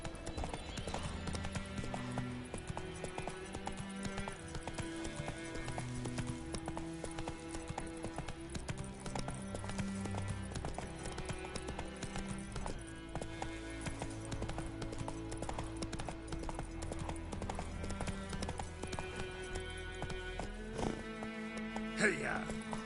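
Roach the horse galloping in The Witcher 3, a long run of steady rhythmic hoofbeats over game music, with a voice speaking partway through.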